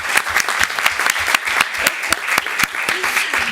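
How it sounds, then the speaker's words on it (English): Applause from an audience at a council meeting, steady, moderately loud clapping from many hands with distinct sharp claps standing out, continuing throughout with a faint voice underneath. "round of applause for my husband."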